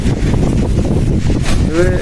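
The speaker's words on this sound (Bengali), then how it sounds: "দেখেন প্রচুর বাতাস, হাওয়া ধরতে আছে।" Strong wind in Oman buffets the microphone with a steady, loud, rough roar that barely lets up, and a brief thin whine rises near the end.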